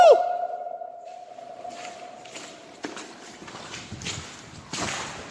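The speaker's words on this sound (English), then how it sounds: "it is kind of cool, the echoing in here" Inside an abandoned train tunnel, a sharp sound at the start rings out and decays slowly into a long reverberant tail, followed by scattered footstep-like thuds and scuffs that echo off the walls.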